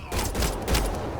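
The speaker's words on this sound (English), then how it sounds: "They shot him!" Gunfire in the video game Mass Effect Andromeda, a loud, close burst of overlapping shots with a heavy low-end rumble that fills the whole moment without a break.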